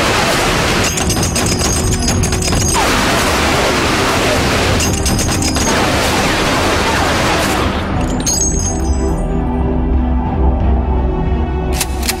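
Thompson submachine gun fire in a mob hit scene: rapid automatic bursts roar in heavy, noisy volleys, with two sustained rattling stretches before the racket fades into a dull lingering rumble.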